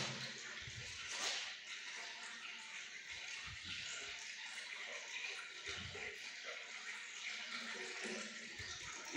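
Spring water at Cosăuți monastery in Soroca runs in a steady, continuous gush, a soft close wash of flowing water with faint low thumps beneath.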